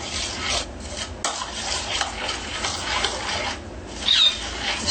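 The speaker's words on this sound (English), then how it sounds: "stir it and so all the ingredients dissolve" A spoon stirs ham glaze made with apple juice and Maggi seasoning, scraping and swishing steadily against the bowl in close, continuous strokes with short pauses.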